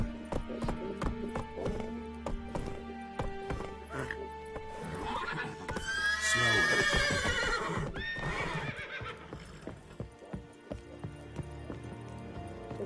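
Horse in Witcher 3 neighs and whinnies loudly in the middle of steady galloping hoofbeats, set against game music, with a voice calling out over it now and then.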